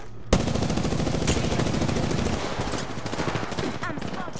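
Rapid automatic weapon fire in the Apex Legends shooter, a close, loud, steady stream of shots lasting several seconds after a sharp onset, with a few brief louder cracks mixed in.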